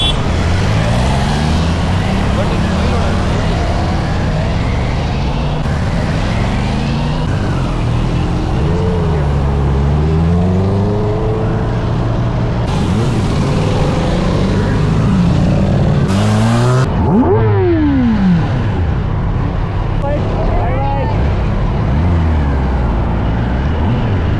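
Superbikes including a Kawasaki ZX10R, Honda Fireblade and Triumph Daytona ride through Bangalore, a loud continuous engine drone with rising and falling revs and passing bikes, wind noise throughout and voices now and then.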